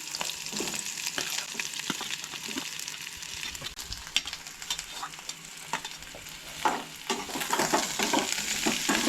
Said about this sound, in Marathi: आनी कांदोय बी मातसोसो भाजून घेया.